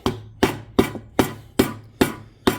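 Hammer knocking on an 8.8 rear end gear setup: seven sharp metallic strikes in a steady, even rhythm about every 0.4 seconds, close and ringing briefly, with a faint hum underneath.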